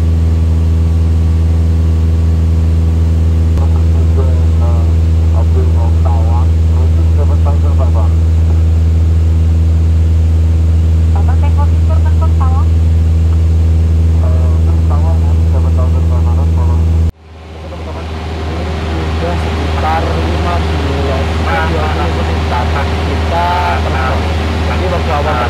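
A Cessna 172S light propeller plane flying low drones steadily from inside the cabin, a loud constant engine hum and buzz throughout, while people talk over it at moments.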